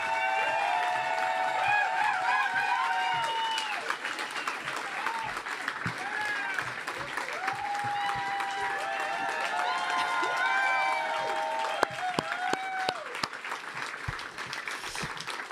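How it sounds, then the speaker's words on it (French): An audience applauds warmly and steadily, with whoops and cheers rising over the clapping throughout. "veuillez faire un tonnerre d'applaudissements pour mes invités, Sandra et Pierre-Luc!"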